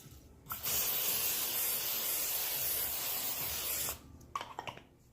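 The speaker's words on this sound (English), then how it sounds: "I'm gonna spray some Pam on the rack just so my chicken won't stick." A continuous Pam cooking spray hisses onto a rack for about three seconds, loud and close, followed by a few light clinks and taps.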